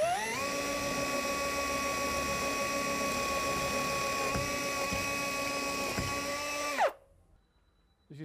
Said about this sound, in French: Mais d'abord, nous perçons simplement en coupant. Cela signifie que nous faisons simplement tourner le forêt.